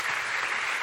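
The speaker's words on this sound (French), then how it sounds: "applaudissements." Studio audience applauding at a French television show, a dense steady wash of clapping that fills the short moment evenly, loud and close with no voices over it.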